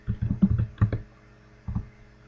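Keys tapped on a computer keyboard while entering a Windows command prompt instruction: a quick burst of close clicks, a pause, then a second short cluster of taps.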